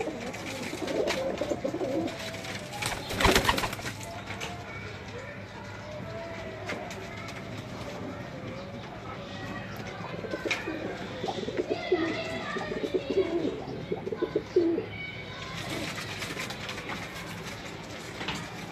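Breeder pigeons cooing in a coop, soft repeated low coos scattered through a long stretch of steady background noise, with a louder burst of nearby activity early on.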